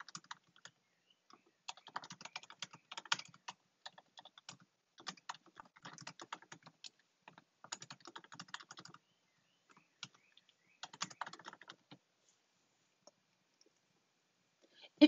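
Someone types a code comment on a computer keyboard, quiet close bursts of rapid key clicks in uneven runs separated by short pauses, with no talking.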